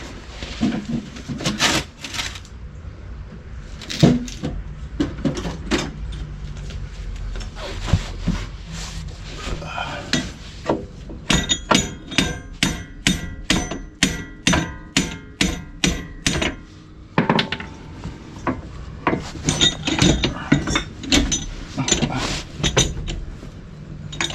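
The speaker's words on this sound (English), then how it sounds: "For this situation, I have a brass hammer." Repeated sharp metallic strikes of a brass hammer against a Yeti steering track bar, loud and close, coming in irregular bursts and then a fast rhythmic run of blows, with occasional clanks of tools between them.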